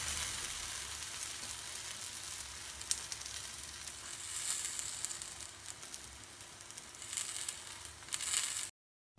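A corn roti sizzles steadily on a hot tawa griddle, a soft, even crackle with small pops, close and moderately quiet, ending abruptly.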